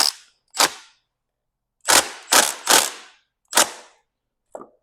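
An impact wrench fires short, loud bursts while tightening a dirt bike brake caliper bolt in a garage, about six separate rattling hits with silent gaps between.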